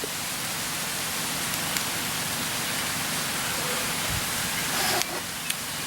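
Steady rain falls on leaves outdoors, a dense broadband hiss that stays constant and fairly loud throughout, with a few faint clicks and no voices.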